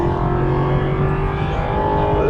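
An Aston Martin V8 Vantage engine rumbles and revs at close range, a steady loud growl with strong low harmonics holding for a couple of seconds, with no voices.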